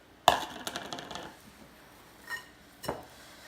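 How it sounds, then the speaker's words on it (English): Oats and raisins go into oatmeal cookie dough in a bowl with a sharp clink, then a few lighter taps and scrapes, and two more distinct knocks against the bowl. "It's time to put in the oats and raisins."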